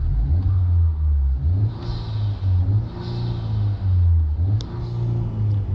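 A 2019 Honda Civic Type R engine revs repeatedly against a limiter set at 3,500 RPM, its turbo spooling audibly. The deep, loud engine note rises and falls in several pulls with a hiss on top, heard alone.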